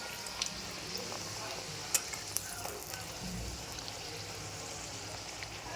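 Sweet pumpkin gharge fry in hot oil with a dense, constant sizzle close by, broken by small crackles and clicks.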